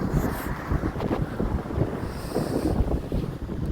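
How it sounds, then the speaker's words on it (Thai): Strong wind blows outdoors, roaring hard and steadily into the microphone with gusty buffeting all the way through, loud and close, with no speech. "ดูลมแรงมากเลยครับ"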